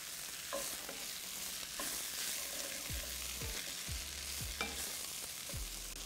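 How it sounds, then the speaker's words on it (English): Basmati rice frying in hot oil while being stirred, a steady close sizzle with repeated scraping strokes of a spoon against the pan every second or so. "Stir well to let the grains coat with oil and all the flavours."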